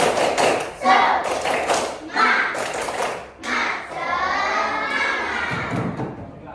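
A school class performs the rhythmic "tepuk semangat" clap, with groups of claps and thumps in a set pattern alongside chanting children's voices, ending with a longer stretch of group voices.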